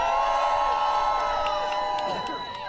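A crowd at an anti-gun violence protest outside the Supreme Court cheers and whoops loudly for a speaker, sustained shouts that taper slightly toward the end.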